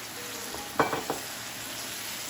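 Chicken sizzles and fries in masala for biryani, a faint steady hiss with a few soft stirring scrapes near the middle.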